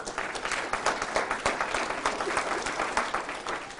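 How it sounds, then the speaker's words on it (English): An audience at a city's State of the City address claps in steady, dense applause, moderately loud and continuous with no voices on top. "If I give her a round of applause, if you don't mind"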